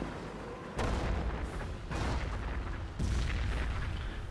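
Nebelwerfer rocket artillery in a video game fires in a series of heavy, booming launches, roughly three distinct blasts over a few seconds with a rumbling, noisy wash lingering between them.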